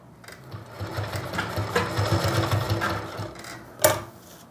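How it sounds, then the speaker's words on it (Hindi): An unthreaded sewing machine runs steadily, stitching stiff buckram onto an embroidered neckline, its close mechanical whir lasting several seconds before a sharp clack near the end. "इस तरह से खाली मशीन को चलाना है"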